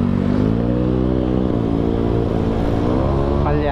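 A misfiring motorcycle engine drones loudly and close while riding along a Manila city road, a constant throaty rumble with strong harmonics and faint traffic clatter behind it.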